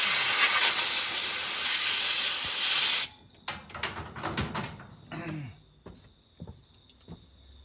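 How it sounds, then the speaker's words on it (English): A loud continuous blast of compressed air blowing out a Stihl chainsaw clutch needle cage for about three seconds, then ends abruptly and is followed by clicks and handling knocks of the part. "I'm just gonna quickly blow out this needle cage just so it's completely free"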